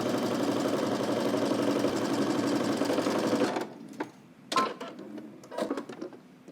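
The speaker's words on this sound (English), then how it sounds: "let's head to the machine and we're going to stitch starting on one end, going all the way across to the other end" A sewing machine runs steadily for about three and a half seconds, stitching a 5/8 seam across fabric with a fast, even mechanical whir close by, then stops, leaving a few soft handling clicks and rustles.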